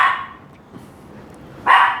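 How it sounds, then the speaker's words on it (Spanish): Dog barking in the background at cats outdoors in a garden, two short sharp barks separated by a quiet gap, moderately distant. "Ahí se escucha Luna ladrando al fondo. Está ladrándole a unos gatos"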